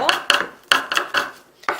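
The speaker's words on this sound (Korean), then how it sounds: "해서 동글동글하게 송송썰기라 그래가지고 동글동글하게 썰어주시면 돼요" A knife slices sea cucumber into thin rounds on a cutting board, producing six crisp, evenly spaced chops close to the microphone.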